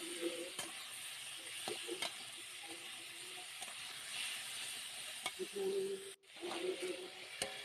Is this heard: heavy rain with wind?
no